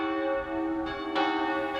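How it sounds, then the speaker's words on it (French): Church bells ring with a rich, sustained tone at 11 a.m. before Mass at Notre-Dame, new strikes sounding over the lingering hum of earlier ones. "11h, les cloches sonnent,"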